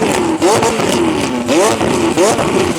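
A tuned McLaren 600LT engine revs hard in repeated rising and falling surges, loud and close, with no talking.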